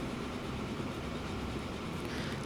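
A freight train carrying fuel in Transport Fever 2 rolls in with a steady, even rumble and faint rail noise, constant in level and fairly quiet, with no voices.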